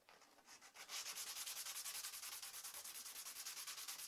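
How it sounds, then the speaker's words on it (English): A guitar bridge saddle from a Takamine G240 acoustic guitar is rubbed flat on a sanding block, giving quiet, steady, rapid back-and-forth scratching strokes that start after a brief pause and continue evenly. "So we get our little sanding block and we just sand away."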